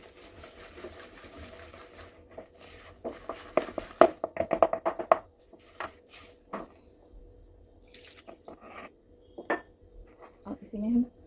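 Red velvet cake batter is mixed in a bowl, with bursts of rapid clattering whisk or spoon strokes against the bowl and quieter pauses between them.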